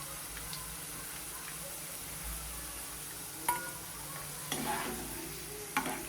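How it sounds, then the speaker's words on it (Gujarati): Okra (bhindi) frying in oil in a pan gives a steady, soft sizzle throughout, with a few louder bursts of crackle and stirring near the end. "તો ભીંડા સરસના ફ્રાય થઈ ગયા છે, આપણે તેને બાઉલમાં કાઢી લઈશું।"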